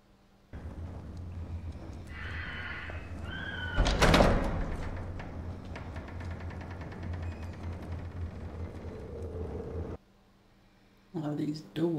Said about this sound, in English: All these doors.